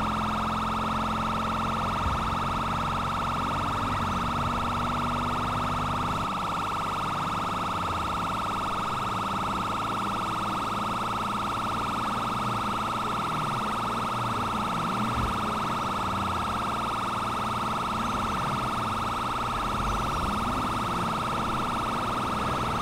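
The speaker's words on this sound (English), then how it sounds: "we're going to go priority siren to try to get there as fast as we can" A police car siren in the GTA V LSPDFR mod, running priority response while driving to a call, wails steadily and loudly throughout over a constant engine and road drone.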